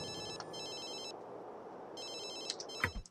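A telephone rings with an electronic ringtone in two bursts separated by a short pause, clear and fairly close over a faint background.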